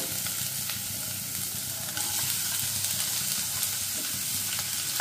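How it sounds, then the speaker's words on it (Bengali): Chopped ginger frying in a pan for oats poha, a continuous close sizzle with light scrapes and a slight rise in loudness midway, no voices. "আদাটাকে একটু এইদিকে আলাদা করে ভেজে নেব।"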